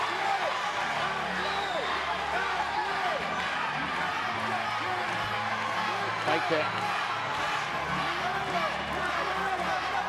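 Fight crowd at a women's MMA bout cheering and rallying behind a fighter in the final round, a dense steady roar of voices with whoops throughout, commentary talk running over it.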